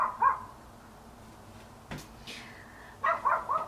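Indoor dog barking in a few sharp, close yelps and short barks, spaced out over a quiet room with a brief knock in between.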